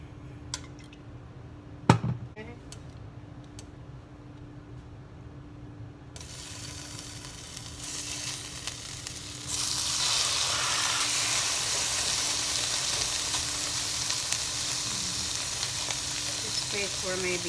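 Shrimp hitting hot oil in a pan, starting with a few clinks and taps before a loud, steady sizzle and spatter swells up and carries on continuously, close by.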